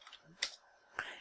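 A computer keyboard clacks as a password is typed in a Linux terminal while setting up a Postfix mail server: a few quiet, separate key presses, close and soft, spaced unevenly.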